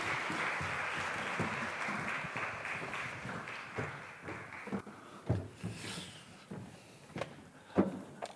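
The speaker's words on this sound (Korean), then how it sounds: "우리 다시 한번 박수로 한번 환영하겠습니다" Congregation in a Paris Presbyterian church clapping to welcome a missionary to the pulpit, a fairly quiet spell of applause that fades into scattered knocks and shuffling.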